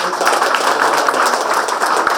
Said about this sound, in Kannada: ಅವರಿಗೆ ನಮ್ಮೆಲ್ಲರ ಪರವಾಗಿ ಮತ್ತೊಮ್ಮೆ ಜೋರಾದ ಚಪ್ಪಾಳೆ